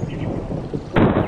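A cartoon rainstorm: steady rain hiss that suddenly breaks into a loud, close crack of thunder near the end, with no speech.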